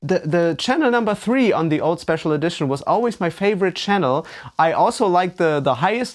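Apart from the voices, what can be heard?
No distinct noise like a dog, phone or traffic.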